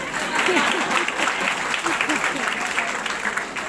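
Audience applause at a Hindi literary talk on literature and cinema, a steady wash of clapping from a crowd that holds for several seconds with a voice faintly audible beneath it.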